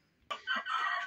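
A rooster on a poultry farm gives one brief, fairly faint crow that starts abruptly and holds a short strained call before cutting off.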